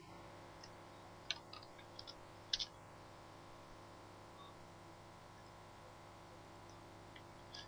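Soft, sparse mouse clicks while drawing in AutoCAD 2013: a few quiet single and double clicks scattered over a faint, steady background hum, with no talking.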